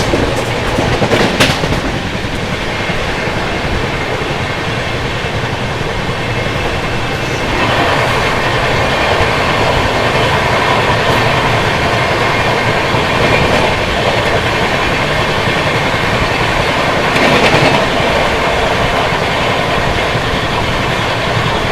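The Kashi Mahakal Express runs from Varanasi toward Indore, heard from inside a coach as a loud steady rumble with rhythmic clickety-clack over the rails, continuous throughout.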